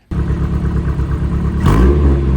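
A Honda S2000 with its stock exhaust starts abruptly into a steady idle with a mechanical clatter, then revs louder near the end, close up and with no voices.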